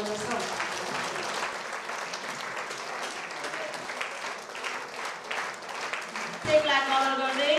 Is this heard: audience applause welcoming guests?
yes